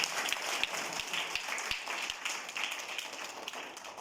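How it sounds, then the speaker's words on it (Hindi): An audience claps steadily to welcome the additional district collector as chief guest at a tree-planting event at an ashram in Barmer, a dense, sustained burst of applause with a few sharper individual claps, and no talking over it. "आपका जोरदार तालियां बजाकर हम स्वागत करते हैं।"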